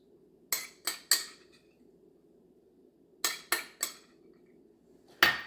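A utensil clinking against a bowl while stirring mayo and Dijon mustard for crab cakes, in two quick bursts of three sharp, bright taps, then a single final clink, close and clear over a quiet kitchen.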